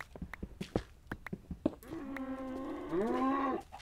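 Cattle in a stable inside a Minecraft modpack game moo loudly, one long drawn-out low call rising near the end, preceded by scattered clicks and thumps.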